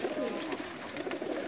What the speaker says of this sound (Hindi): ये सारे इन्हां दे जड़ा है उड्डण वाले हाई फ्लायर कबूतर नर न जनाब।